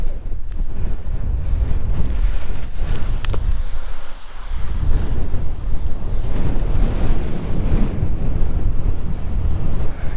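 Strong wind roars steadily outdoors in a national park where drifting sand fills in tracks, with loud buffeting on the microphone and a brief lull near the middle.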